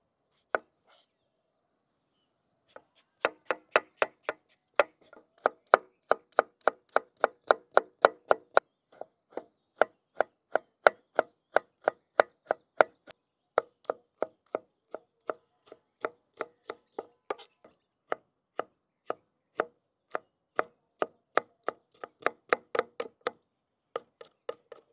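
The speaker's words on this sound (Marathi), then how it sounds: "आपण आता टोमॅटो बारीक चिरून घेऊ।" Tomatoes being finely chopped with a knife on a board: a long run of crisp, rapid taps, fairly close and moderately loud, coming in steady bursts with brief pauses, no talk.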